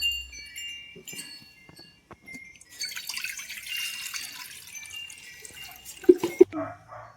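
Water pours and splashes steadily for a few seconds as it is drained from a container of soaking wheat, then stops, followed by a couple of sharp knocks and faint drips nearby.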